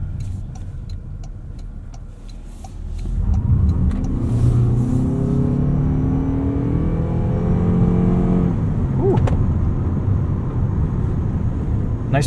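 A 2026 Toyota RAV4 GR Sport hybrid with 324 combined horsepower launches hard, its engine swelling from a low hum into a loud, rising roar that holds, then eases off as it rounds a corner.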